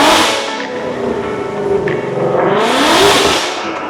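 A 2024 Mustang Dark Horse fitted with an AWE SwitchPath exhaust accelerates hard, its loud engine note rising and holding through a steady, aggressive pull with no talking over it.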